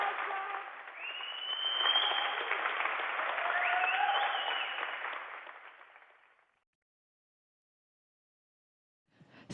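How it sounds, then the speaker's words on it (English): A crowd of about 80 people applauds and shouts, a dense burst of clapping that swells, holds, then fades out, followed by silence. "I hope you can hear the shouting, the applause."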